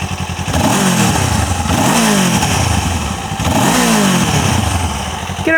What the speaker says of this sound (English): Let's take a listen. Bike is already warm.